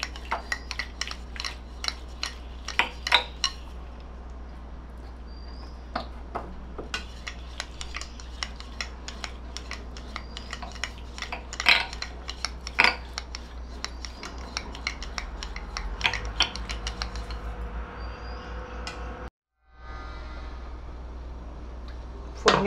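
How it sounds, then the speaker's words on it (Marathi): Cooked dal is mashed and whisked in a pot, giving a long run of uneven scraping, rubbing strokes of a utensil against metal, close and fairly loud, with no talking. "वरण शिजलेलं आहे आपलं, फक्त घोटून घेते मी"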